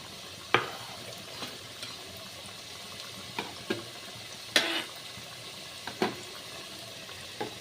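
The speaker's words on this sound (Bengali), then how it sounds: "দেখো আমি আলুগুলোকে ভাজা করে নিচ্ছি" New potatoes frying in oil, a quiet background sizzle broken by several sharp clinks and scrapes of stirring at uneven intervals, all close by with no talking.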